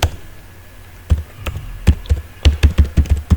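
Computer keyboard keys struck close up during a SQL database lesson, a few scattered taps early, then a quick irregular run of sharp keystrokes with brief pauses between them, heard alone in a quiet room.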